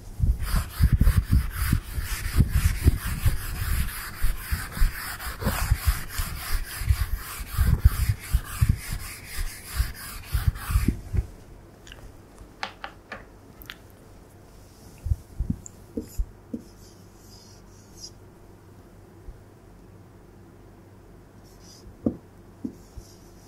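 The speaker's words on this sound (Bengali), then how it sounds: "আমি আপনাদেরকে আবার লিখে দেখাচ্ছি।" Marker or chalk writing Arabic script on a board makes rapid rubbing, scratching strokes for about ten seconds, followed by sparser, quieter scrapes and taps.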